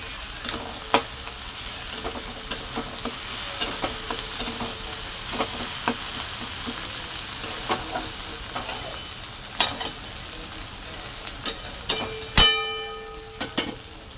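Onion and tomato sauté in a pan with a soft continuous sizzle, broken by frequent scraping stirs and clicks of the spatula against the metal, one ringing clang near the end, no voices.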